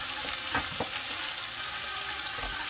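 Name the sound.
beef and mini vegetables sautéing in a pan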